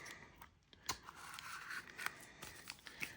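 Quiet scissor snips cutting apart a firework salute shell, a few short crisp cuts spaced irregularly against a low, near background.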